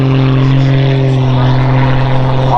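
A small propeller aeroplane flying aerobatic manoeuvres at the Farnborough Airshow drones loudly and continuously, its steady engine and propeller tone slowly shifting pitch as it rolls overhead.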